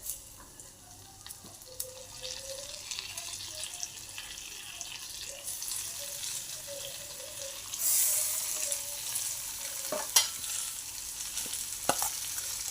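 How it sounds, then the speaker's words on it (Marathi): Stuffed eggplants fry in roasted masala in a pan, a faint steady sizzle with occasional stirring scrapes and clinks, a brief louder hiss midway. "आता यामध्ये आपण भरून घेतलेली वांगी घालणार आहोत।"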